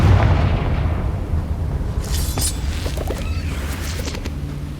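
Confringo blasting spell exploding in Hogwarts Legacy, a deep booming blast at the start followed by crackling bursts and sharp pops that trail off, with no talk over it.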